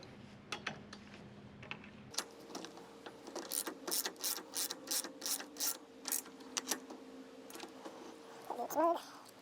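Quiet ratcheting clicks of an adjustable wrench tightening bolts on a DeWalt DWX726 rolling miter saw stand, a short series of metallic ticks in a loose rhythm after a brief pause, close by with faint background hum.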